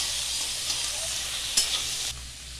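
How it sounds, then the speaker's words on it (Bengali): Dried fish fries in a pan with a steady, loud hissing sizzle and one brief clink partway through; no voices. "শুকনো মাছগুলি ভালো ভাজা হয়ে গেছে"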